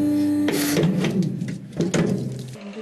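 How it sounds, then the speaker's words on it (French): A book guillotine blade comes down along the glue line of a volume in a bookbinding workshop, giving a loud mechanical clunk followed by a grinding cut and a second thud, over a constant machine hum. "La lame va s'abattre exactement sur la ligne de colle de l'ouvrage."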